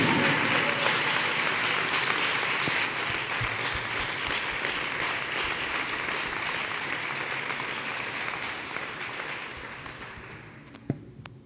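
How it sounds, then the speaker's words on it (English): A church congregation claps along at length to praise a young woman who passed her matric with six distinctions, with steady dense applause that slowly thins toward the end. "Clap hands beautifully for Jesus."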